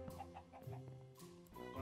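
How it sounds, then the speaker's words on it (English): Chickens clucking in Minecraft, with short, close, slightly odd-sounding repeated clucks in a quick, uneven rhythm. "Wow, those chickens sound weird."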